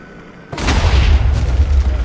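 A dragon arriving in Minecraft, heard as a sudden deep boom followed by a loud sustained rumbling roar that fills the rest of the clip, with no talk.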